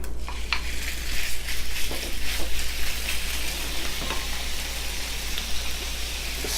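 Beef dropped into a hot oiled pan for a stir fry, sizzling and frying steadily with crackling pops and stirring, continuous and close with no talking.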